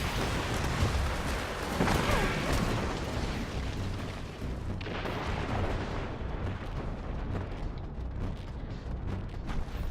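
Repeated grenade blasts and heavy gunfire in the online shooter Destiny 2 during a Crucible match, a dense continuous barrage of booms and bursts throughout.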